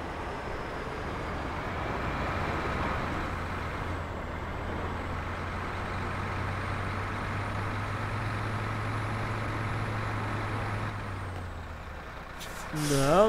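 Caterpillar 770G haul truck in the SnowRunner game, a steady low engine drone running throughout with hiss, ending in a sharp burst of air-brake release near the close.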